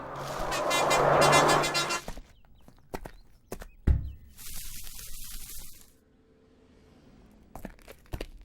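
A vehicle from Karnataka rolls in with a loud, close engine roar that cuts off as it stops, followed by scattered thumps, a door-like bang and a hiss, then quiet with a few clicks.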